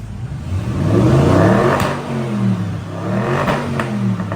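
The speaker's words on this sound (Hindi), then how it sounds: "भैया गाड़ी ऑन कर रहे हैं एंड आपको मैं आवाज सुनाता हूँ।" A Bentley Continental GT engine runs close by with a deep exhaust note. It swells in a rev early on, then settles into a steady burbling idle with faint clicks.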